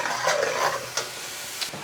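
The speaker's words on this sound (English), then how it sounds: "We get in there and we give it a quick toss. So, get it sizzling." Eggplant pieces in garlic sauce are tossed in a hot pan, a hissing sizzle with scraping stir sounds and soft thumps of the food shifting, close and fairly quiet, no talk.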